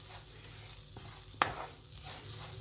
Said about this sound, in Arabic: نحرك المهلبية كمان واحنا بنشتغل